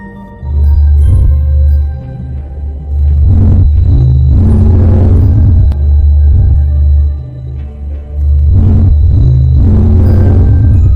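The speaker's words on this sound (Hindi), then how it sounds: "आपको हमारे सौरमंडल की ऊर्जा स्रोत यानी कि सूर्य की आवाज को सुनता हूं" Sound presented as a recording of the Sun from space: a deep, continuous rumbling drone that swells and surges in waves, loud and steady throughout, with no voices.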